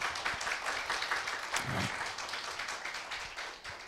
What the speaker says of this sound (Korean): 큰 격려의 박수 한번 부탁을 드립니다